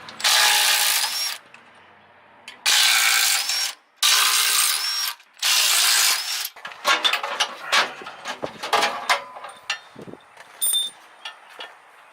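Power tool work removing a receiver hitch from the rear frame of a Jeep Wrangler JKU: four long loud bursts of an impact tool or drill, then a run of clinks, ratcheting and metallic clanks close by, no talk.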